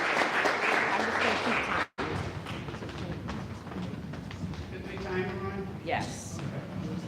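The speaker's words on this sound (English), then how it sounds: "give her a round of applause, y'all." A crowd applauds at a public input meeting about pedestrianizing Moody Street, with dense, sustained clapping and some voices mixed in, then it fades as talking continues.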